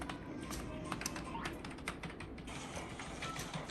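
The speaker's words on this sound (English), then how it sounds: "He typed attentively, the sound of the keyboard clicking away" Computer keyboard typing with brisk, irregular clicks and taps, close and steady throughout, over a faint room background with no clear speech.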